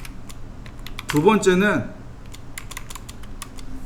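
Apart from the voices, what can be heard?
typing on a computer keyboard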